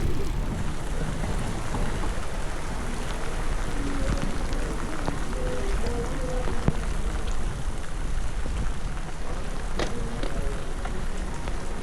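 Evening rain falls steadily in Marmaris, a continuous hiss of drops on surfaces with low rumbling underneath, lasting about twelve seconds with faint voices and small sounds in the background.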